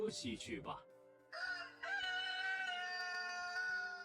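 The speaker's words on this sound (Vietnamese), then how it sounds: "Nghe gà gáy" A rooster crows loudly and close by, a long drawn-out call that holds steady for a couple of seconds after some brief voices at the start.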